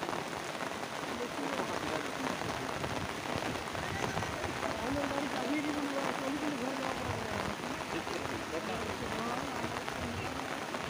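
Rain falls steadily during an outdoor football match, a dense continuous patter over the ground, loud and close throughout, with a voice commentating underneath.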